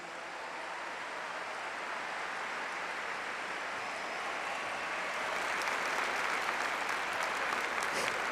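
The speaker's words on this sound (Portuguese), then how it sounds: "Aplauda a palavra de Deus." A church congregation applauds during a sermon, a broad, continuous rush of many people clapping that grows slightly louder in the final seconds, heard alone without talk.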